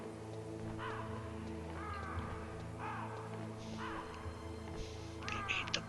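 Birds cawing in the Metal Gear video game, several harsh crow-like calls spread over a steady low background hum, fairly close and moderately loud, with a brief scrape near the end.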